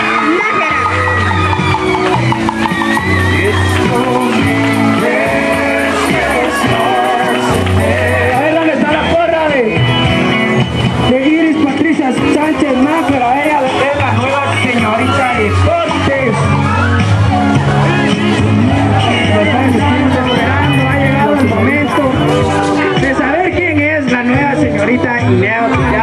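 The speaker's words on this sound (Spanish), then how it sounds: "la vamos a recibir con un fuerte aplauso y ella es Iris Patricia Sánchez Nájera" Audience at a school pageant in Jutiapa, Guatemala, cheering, whooping and clapping in a loud, continuous crowd roar that lasts throughout with shouts rising above it.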